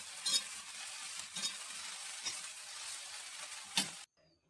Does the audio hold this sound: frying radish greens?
yes